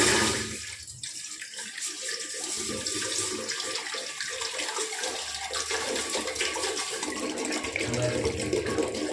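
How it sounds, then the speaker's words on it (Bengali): Water pours steadily into a pot with a continuous splashing rush, close by and fairly loud, with no voices. "এবার জল ঢেলে দেবো।"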